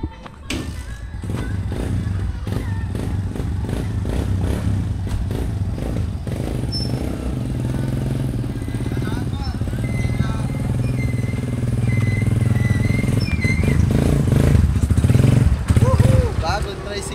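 A new motorcycle tricycle used for farm service runs steadily nearby, its engine droning with clattering thumps and taps, while voices talk over it.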